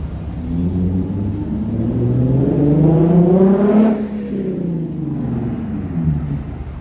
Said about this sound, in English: all that loud engine revving, and then he just had to stop in traffic like 100 feet up ahead.